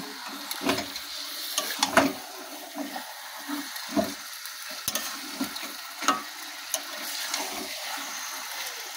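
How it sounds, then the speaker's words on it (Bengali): Mutton pieces stir-fried with spices in a pan, heard as intermittent scraping stirs and soft sizzling bursts at close range, fairly quiet with no voices. "যেহেতু এটা খাসির মাংস তো একটু টাইম নিয়ে এটাকে আমরা ভালো করে আগে কষিয়ে নেব"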